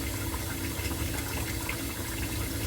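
Tap water runs steadily as red lentils are rinsed, a continuous close gushing wash with no pauses.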